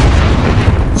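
A grenade blast in the video game Call of Duty gives a single loud, booming burst that fills the short moment up close.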